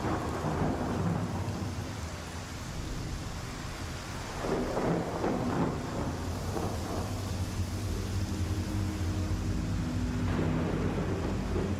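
Rain and thunder in the video game Star Citizen, heard from aboard a ship: a steady wash of rainfall with low rolling thunder swelling midway and again near the end, no voices.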